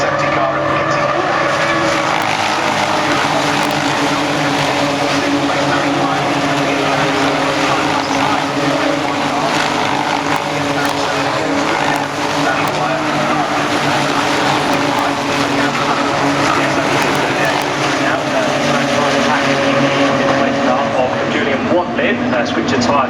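British GT race cars at Brands Hatch heading down the Cooper Straight, a continuous loud engine roar that stays dense and steady throughout, with a commentator talking over it.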